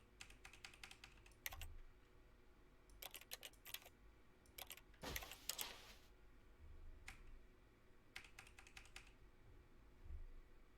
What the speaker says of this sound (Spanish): Presione O en su teclado.